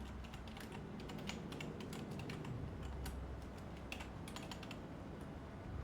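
Soft keyboard typing runs in quick irregular bursts of clicks, close and faint over a steady background hiss, with no one speaking.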